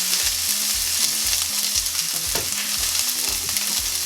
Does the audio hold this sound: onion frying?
yes